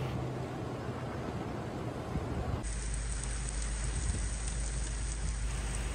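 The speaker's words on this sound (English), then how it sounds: "Rain, hail and flood are a part of the storm, which is still mostly raging." A storm in Oman pours heavy rain onto surfaces in a dense, continuous hiss, with a sudden shift partway through to a deeper, rumbling downpour.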